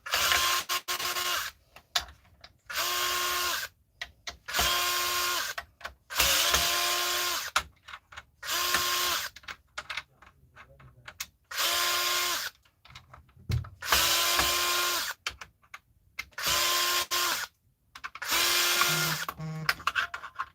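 Screws being removed from the back of a device with a power driver, a series of about a dozen short whirring bursts separated by quiet pauses, close and fairly loud, with no talking.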